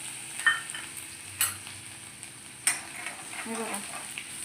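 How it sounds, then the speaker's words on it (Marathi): Garlic and finely grated ginger sizzling in hot tempering oil with asafoetida and cumin for a Maharashtrian stuffed brinjal curry, a soft steady crackle with a few sharp stirring clinks from a spoon against the pan. "यात लसूण टाकून यातच अद्रक किसून बारीक टाकलेला आहे"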